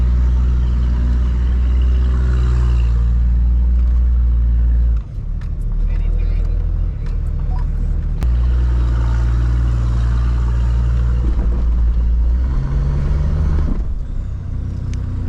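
A Toyota off-road vehicle crawls uphill in low-range gear with a 3-to-1 transfer case reduction at a Toyota jamboree, its engine holding a steady, loud low drone throughout with brief dips.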